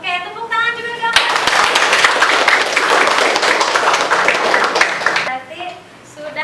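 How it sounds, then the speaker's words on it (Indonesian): A group claps in a classroom during a nursing lesson on blood pressure measurement, producing about four seconds of dense, close applause. Speech comes just before and after the clapping. "Oke, tepuk tangan juga dong."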